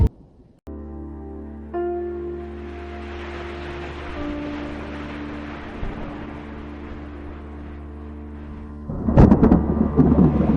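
Thunder rumbles low and long through a storm with steady rain in the background, then a louder crash of rain and thunder near the end.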